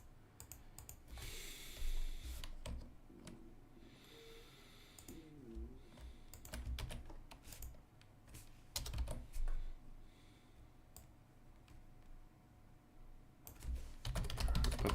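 Typing on a computer keyboard during a game developer's livestream: bursts of quick key clicks and taps come and go over fifteen seconds, with pauses between flurries, close-miked and moderately loud.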